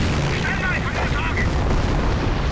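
Heavy enemy fire pounds a base in the World War II strategy game Company of Heroes: Tales of Valor, a continuous loud roar of explosions and booming shells with voices buried in the din.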